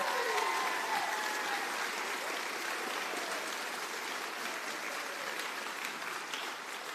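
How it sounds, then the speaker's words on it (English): Sustained applause from an audience honoring nursing faculty and staff at a nursing class pinning ceremony, a dense steady wash of many hands clapping throughout, fairly close and even in loudness. "Could we give a round of applause to the faculty and staff?"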